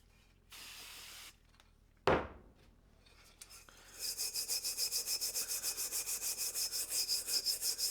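An old steel Great War helmet being sprayed with glass cleaner and then scrubbed with steel wool and Scotch-Brite: a short spray hiss, then steady rhythmic back-and-forth scrubbing, close and alone.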